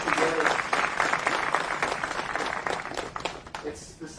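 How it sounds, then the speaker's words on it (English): Crowd applause at an outdoor 9/11 memorial ceremony at the California State Fairgrounds, steady clapping from many hands throughout, loud and close, slowly thinning toward the end. "Let's give a round of applause to our veterans and our affiliated councils"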